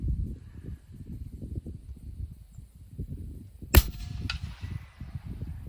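Single suppressed 300 Blackout rifle shot fired downrange during a boar hog hunt, one sharp crack followed by a short fading echo over a low, rumbling outdoor background.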